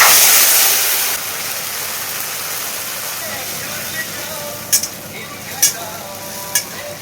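Young jackfruit dropped into hot oil in a wok gives a loud sizzling burst for about a second, then settles into a quieter hiss broken by a few sharp clinks.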